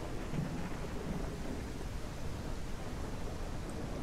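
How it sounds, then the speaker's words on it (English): Steady rain hiss with low rumbling thunder during a storm in the Ranch Simulator game, a dense, continuous wash of noise with a few soft low rolls near the start and no voices. "All this rain is making my bees unhappy."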